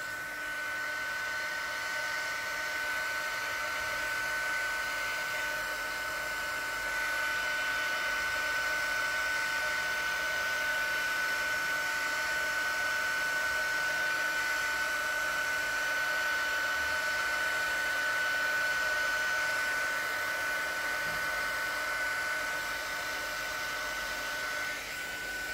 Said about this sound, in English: I'm only using the heat gun to push it over.